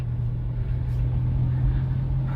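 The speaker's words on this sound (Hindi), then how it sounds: "ये थर्ड गियर में हमारी गाड़ी चल रही है।" A car moving steadily in third gear gives a loud, continuous low engine hum and road rumble, close and even throughout, with no talk.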